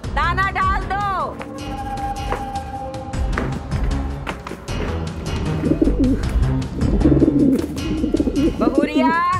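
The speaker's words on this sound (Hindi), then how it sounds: "कबूतर भूख के मारे गुटर गुटर कर रहे हैं" Hungry pigeons coo repeatedly around a household, a soft, steady cooing that runs beneath someone talking and other household voices.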